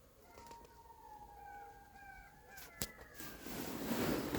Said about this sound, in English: there's definitely something howling out there. It sounds so much like a wolf's howl.